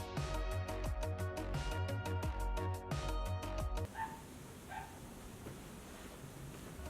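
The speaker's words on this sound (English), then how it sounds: "That dog is just barking away." A dog barks in a rapid run of loud, repeated bursts, then falls off to quieter background noise with a few faint sounds.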